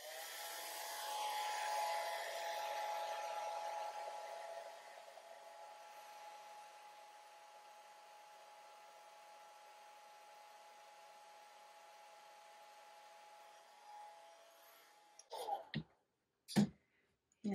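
A hair dryer blows on watercolor paint with a loud, steady whirring hiss that drops to a quieter hum after a few seconds, then cuts off and is followed by a few sharp clicks and knocks.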